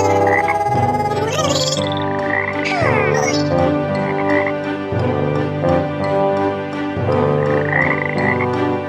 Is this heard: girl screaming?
no